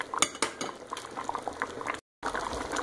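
Homemade pasta sauce with meatballs simmers in a pot, a steady close bubbling and popping with faint utensil clinks and no talking.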